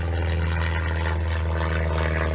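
A propeller or jet airliner passes overhead near Heathrow, a loud, steady engine drone with a low hum that holds for the whole stretch, with no talking.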